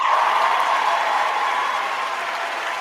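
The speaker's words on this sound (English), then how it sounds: "I'm going to give her a round of applause." A crowd claps and applauds during a live stream, a steady, moderately loud wash of clapping that fades slightly toward the end.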